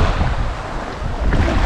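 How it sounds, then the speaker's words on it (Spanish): Ocean waves wash onto an island beach at Cojimíes, a steady broadband surf roar with gusty wind buffeting the microphone throughout, no voices. "con el sonido de estas hermosas olas"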